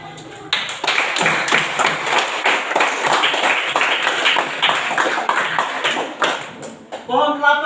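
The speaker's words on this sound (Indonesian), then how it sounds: "Kita tepuk tangan untuk." Classroom audience applauding during an exam lesson on plant reproduction, a dense burst of hand claps that starts abruptly, holds steady for several seconds and then gives way to voices.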